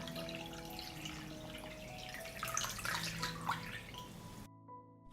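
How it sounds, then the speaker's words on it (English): Water poured from a pan into a pot holding jars of blueberries set on a cloth, a steady faint splashing and trickling that swells midway, then stops abruptly near the end. "I pour water up to the height of the lid."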